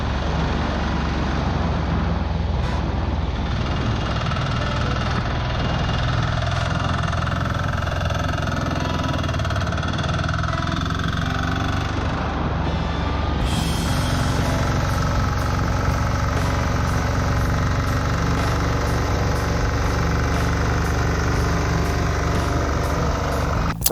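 Diesel KMZ Dnipro 300 motorcycle ridden along a dirt track across a field beside a tree line, its engine a loud, continuous close drone with wind rush and no speech.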